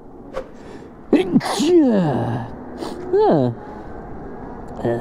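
A single loud, close sneeze follows a sharp intake of breath, and brief voiced sounds come after it.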